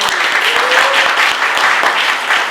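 A crowd applauds steadily, a dense wash of clapping that stays even throughout, with no talking over it.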